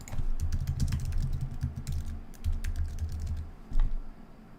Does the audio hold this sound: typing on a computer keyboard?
yes